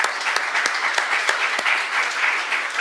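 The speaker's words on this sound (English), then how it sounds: "So, round of applause to the panelists." Audience applause for the panelists at a cyber law conference on implementing NIST rules: steady, dense clapping from a seated crowd, close and even throughout, with no voices over it.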